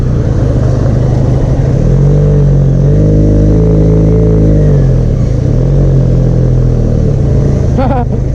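A Benelli Leoncino 500 motorcycle idles and revs with a steady, loud engine and exhaust drone that swells slightly in the middle, close to the listener and alone.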